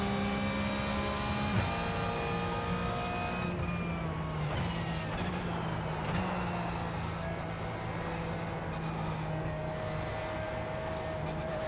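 Several race car engines droning and shifting pitch together in an iRacing online race session, a steady loud whine with gear changes and cars passing close by.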